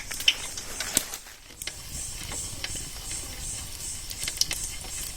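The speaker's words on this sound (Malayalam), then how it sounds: "പരിപ്പ് വറുത്ത് വരാൻ വേണ്ടാണ്" Cashew nuts fry in hot oil with a soft, steady sizzle and scattered crackles and pops, close up and moderately quiet, without any voices.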